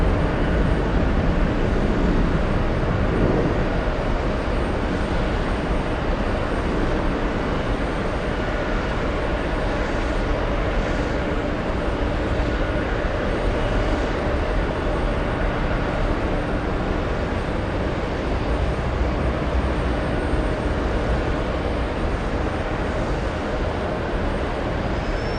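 A jet airliner fitted with Scimitar winglets at JFK airport gives a steady, broad engine roar that holds at an even loudness throughout, with no talk over it.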